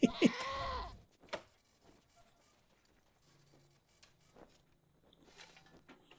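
One short, strained goat bleat in the video game Wasteland 2 opens the moment, followed by faint scattered game noises and a low hum.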